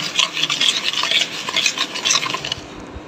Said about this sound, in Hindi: बैटर को ऐड करने के बाद इसको मैं हैंड से बीट कर रही हूँ।